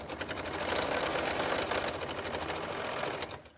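A sewing machine stitches binding onto a quilt, a close, steady rapid chatter of needle strokes running for a few seconds before slowing to a stop, with no talk.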